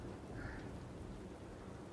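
Steady rain in the video game Divinity, a constant hiss of falling water that fills the scene evenly with no voices over it.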